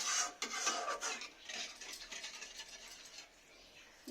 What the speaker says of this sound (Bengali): এবার আমি মশলার সঙ্গে জলের সঙ্গে একটু ভালো করে নেড়ে নেব।